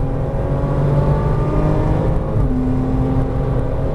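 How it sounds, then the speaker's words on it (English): A Porsche Cayman R accelerating on a race track, its engine note steady and loud with rising harmonic tones heard from inside the car, no voices over it. "Now you can get on the throttle."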